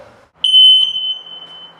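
A smoke detector's alarm gives a loud, piercing tone on its test button, a first beep running straight into a sustained shrill blast right after installation, with faint room noise around it.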